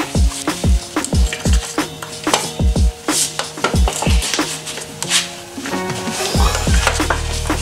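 A greased motorcycle axle is forced back into place during a chain and sprocket change, making repeated loud metallic knocks and clanks close by. The blows come in an uneven rhythm throughout.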